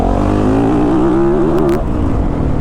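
A 2022 Yamaha YZ450FX motorcycle engine being throttled, a loud, close, buzzing tone that climbs and wavers in pitch as it revs, then drops back to a lower rumble.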